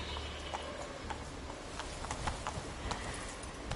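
Horse hooves clip-clop in a steady walking rhythm in The Witcher 3 video game, soft and fairly distant over a constant low background hum.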